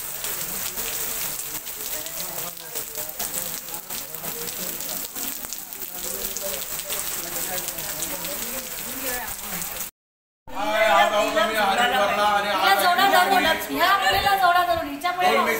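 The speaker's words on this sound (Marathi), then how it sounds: "हरिद्वार मध्ये प्रचंड जोरदार पावसाने पकडला आहे" Heavy rain pours down in Haridwar, a steady dense hiss on surfaces that runs for about ten seconds, breaks off briefly, then returns louder and closer with voices talking under it.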